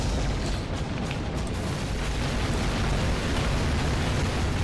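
A weapon in the online shooter M.A.R.S Online fires in a loud, continuous roar of booming bursts, dense and unbroken throughout with no speech.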